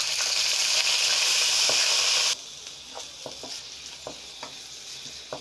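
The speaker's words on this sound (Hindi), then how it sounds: "और अब मैं इसमें डाल रही हूँ प्याज" Onions fry in a pan of hot oil with red chilli, cinnamon, cloves and cumin for dhaba-style keema, starting with a loud, bright sizzle that suddenly drops to a quieter crackle with light stirring clicks.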